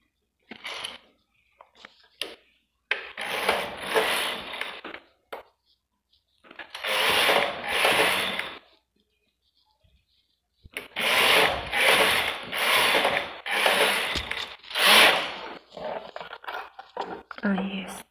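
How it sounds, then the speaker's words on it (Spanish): A domestic knitting machine stitches baby booties, its carriage running in long rattling, whirring mechanical passes separated by short pauses, loud and close with small clicks between strokes. "voy a coser punto por punto"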